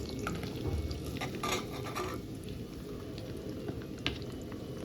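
Pieces of dried fish frying in hot oil for a tomato dried fish curry give a steady, close crackling sizzle, with a few faint clinks from a stirring spoon and no talking.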